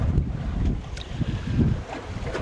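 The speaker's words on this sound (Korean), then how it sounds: "남동풍에 초속 한 8m 정도 바람이 불고요" Southeast wind at roughly 8 m/s blows over a boat at sea, a steady loud rushing rumble with microphone buffeting and faint water wash throughout.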